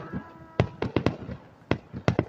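Fireworks bursting over Vernon Downs on July 4, a series of sharp, loud bangs coming in irregular clusters, two or three close together, then a pause before another group, with a faint crackle between them.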